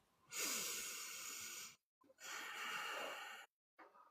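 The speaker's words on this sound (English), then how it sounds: "We're going to take 3 deep breaths." Three deep, slow breaths during a calm grounding exercise, each a long airy inhale or exhale lasting over a second, close and soft, separated by short silences.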